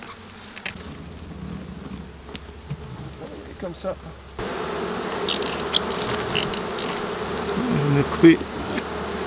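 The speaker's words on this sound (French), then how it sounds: "ici, j'ai les abeilles" Honeybees buzz steadily during an open-air colony recovery, a dense hum that grows louder midway, with brief speech and handling noises over it.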